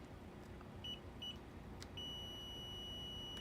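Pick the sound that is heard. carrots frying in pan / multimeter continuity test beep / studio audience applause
multimeter continuity test beep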